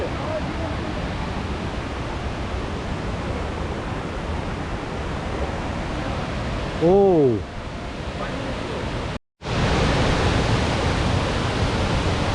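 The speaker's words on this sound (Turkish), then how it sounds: "Şelalenin tam damarına geldik." A powerful waterfall in Nuwara Eliya, Sri Lanka roars in a dense, continuous rush of water at night, with a brief voice-like call rising above it midway and a momentary dropout near the end.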